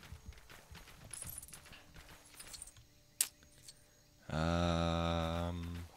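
Horse hoofbeats from the Lego Worlds video game come as scattered light clip-clops and jangles over a busy game background, followed by a loud sustained harmonic tone near the end.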